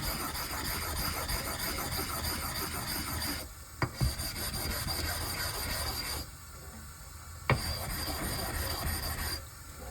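A Japanese natural stone is rubbed across a 1500 DMT diamond plate in a steady, close, gritty rasping, broken by two brief pauses and a few light knocks.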